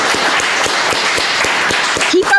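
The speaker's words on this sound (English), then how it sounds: "a big round of applause for Coleen Rowley" Audience applause honoring Coleen Rowley after a host's introduction, steady dense clapping throughout with a brief voice-like sound near the end.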